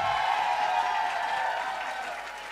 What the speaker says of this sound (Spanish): vamos a repetir aplausos que sean claros para salvar a un segundo participante